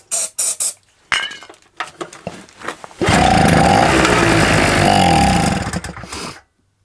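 Several short metallic clicks and taps precede a loud, continuous hissing spray of engine start fluid into an old Honda or SIP generator, lasting about three seconds before stopping abruptly.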